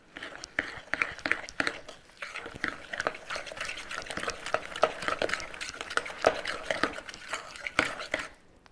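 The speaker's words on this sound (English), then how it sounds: "We want to get these nice and mixed, and I'll show you just what it should look like after I stir it" A spoon or spatula stirring white sugar into cookie dough in a bowl, giving repeated scraping clicks and soft knocks in an uneven rhythm, close and moderately quiet with no talk.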